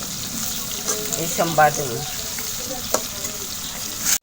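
Tilapia fish frying in oil in a pan, producing a constant close hiss with occasional spatter pops, while a voice speaks briefly over it.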